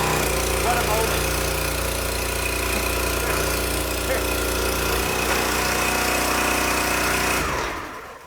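Engine-powered 27-ton log splitter running loud and steady close by as it splits wood, a continuous droning rumble that cuts off near the end.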